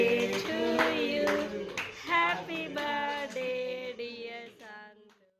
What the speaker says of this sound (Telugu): హ్యాపీ బర్త్డే అని చెప్పగానే క్లాప్స్ కొట్టేస్తుంది